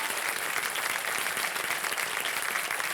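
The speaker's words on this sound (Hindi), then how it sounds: "तालियां बज जाए इनके लिए जोरदार" Studio audience applause for a young contestant on the KBC Under 25 quiz show, a steady, dense wash of clapping that fills the whole moment at moderate level with no voices over it.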